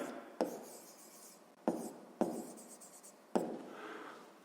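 Pen writing by hand on paper while working a sixth-grade maths word problem, a soft close scratching with short strokes broken by a few sharper taps, alone and quiet.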